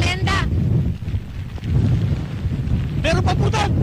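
Strong typhoon wind roars and buffets the microphone amid heavy rain, with the sea reaching the road in the Philippines, and brief bursts of shouting voices at the start and end.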